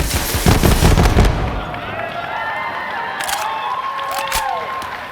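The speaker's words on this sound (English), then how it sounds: "if we switch our alternate firing modes, we fire off micro missiles" A Vladoff pistol in a video game fires micro missiles in its alternate mode. A loud cluster of rapid blasts is followed by fizzing, whistling missile trails that fade over a steady din, with someone talking over it.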